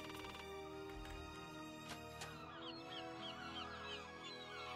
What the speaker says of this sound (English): It sounds like birds.